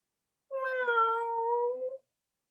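A human actor imitates a cat with one drawn-out, tonal meow lasting about a second and a half, clear and alone against silence.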